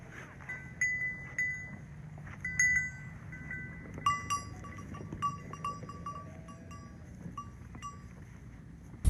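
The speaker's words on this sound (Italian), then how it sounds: "Scendiamo e camminiamo con lui tra le pecore e gli agnelli" A flock of sheep and lambs grazes a mountain pasture on the Altopiano near Ortigara, with clinking bells and scattered soft bleats coming in irregular bursts over a steady outdoor background.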